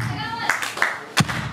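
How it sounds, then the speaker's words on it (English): A few sharp hand claps ring out, spaced unevenly, close and fairly loud, while someone talks and hums between them in a casual live session. "Can I get a clap?"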